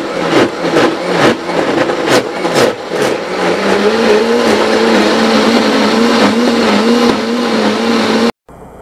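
A kitchen blender grinds arrowroot roots covered with water. Repeated loud pulses at the start settle into a steady, close, whirring motor drone, which cuts off near the end.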